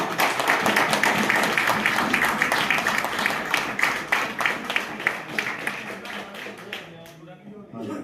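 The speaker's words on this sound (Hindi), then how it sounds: "जोरदार तालियां एक बार सभी साथी" A room full of people at a retirement function applauds with dense, lively clapping that gradually thins out and fades near the end.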